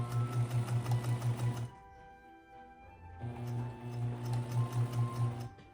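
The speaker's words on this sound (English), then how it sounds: "When you're stitching this, you want to give it a little bit of a stretch so that the thread isn't really tight" Sewing machine stitching a stretchy turtleneck seam, its rapid rhythmic motor whir loud and close in two runs separated by a short quieter pause, with no speech.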